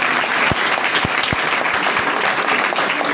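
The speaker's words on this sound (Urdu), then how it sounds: "آئیے خدا باپ اور بیٹے روح القدس کے لیے زوردار تالیاں" Church congregation applauding loudly together, a continuous wash of many hands clapping close and full, with a few sharp low thumps and claps standing out in the crowd.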